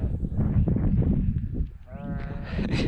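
Sheep bleat on a high mountain road between Armenia, Iran and Azerbaijan, wavering calls rising over a steady rumble of vehicle or wind noise, with people talking nearby.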